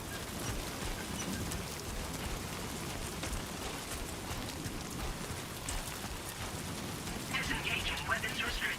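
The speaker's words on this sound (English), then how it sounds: "Timefall's already raining, huh?" Timefall rain pours in Death Stranding 2, a steady, dense hiss of falling rain filling the scene evenly throughout, with a slight swell near the end.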